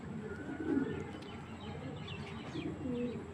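Large racer pigeons coo steadily in a loft, several soft throaty calls overlapping at close range with faint chirps behind, no talking.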